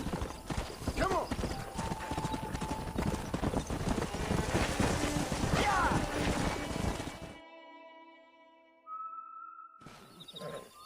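A stallion in the Red Dead Redemption video game, with dense clip-clop hoofbeats and a whinny amid game sounds and talking, fading near the end into a thin whistling tone before a short burst of noise.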